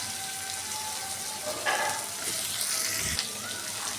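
Chopped pumpkin and bottle gourd fry in hot oil for a south Indian sambar dal, giving a steady, close sizzle with brief stirring clatter partway through and no talking.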